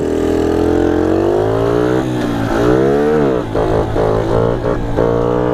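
Dax 50 motorbike engine revving up and down loudly close by during a wheelie, the pitch rising and falling in smooth sweeps with rough, sputtering patches toward the end.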